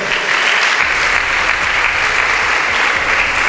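Full room of people clapping continuously at a debate gathering in Nigeria, a loud, even wash of applause from start to finish without speech.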